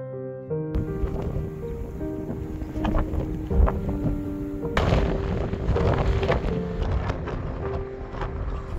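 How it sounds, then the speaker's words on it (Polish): Wind gusts and buffets over the microphone at Dark Canyon in Turkey, a steady loud roar with low rumbling and flapping throughout. "Wiaterek wieje."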